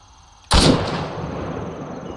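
A single loud, close sniper rifle shot in Arma 3, a sharp crack followed by a long rolling echo that fades slowly.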